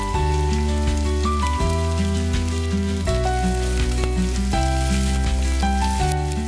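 Chopped garlic, ginger and onion fry in about two spoonfuls of oil in a wok, giving a continuous sizzling hiss that is partly buried under prominent background music.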